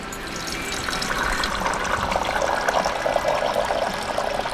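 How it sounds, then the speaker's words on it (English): Water runs steadily out of the bottom of a watered houseplant pot, a continuous close trickle and splash at moderate level with no talking. "You'll know your plant has been thoroughly watered when water runs out of the bottom of the pot."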